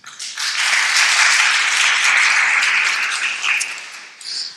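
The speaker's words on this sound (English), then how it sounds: "please round of applause for Mr. Muman" Sustained audience applause at a panel event, steady dense clapping from many hands that swells briefly near the end before fading, with no talking over it.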